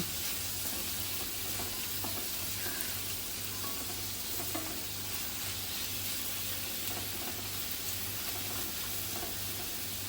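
Ginger-garlic paste frying with onions in a pan for chicken lapeta, a dense, continuous sizzle with faint stirring scrapes, steady and close, without speech.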